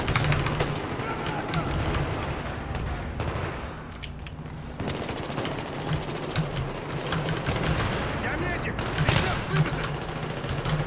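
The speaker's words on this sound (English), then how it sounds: "Bullets falling everywhere." Dense gunfire in the video game Battlefield 3, a continuous rattle of automatic bursts and scattered shots with some louder booms, players talking over it.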